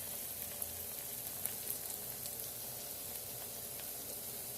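Mushrooms fry crisp in hot oil by a roadside stall, giving a soft, even sizzle with faint crackles and occasional light clinks throughout.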